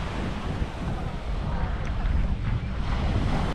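Ocean waves roll onto a beach at San Juan, La Union, Philippines, a continuous loud rushing wash mixed with heavy wind buffeting against the microphone.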